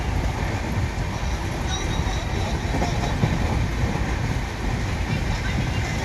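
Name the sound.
running train on the tracks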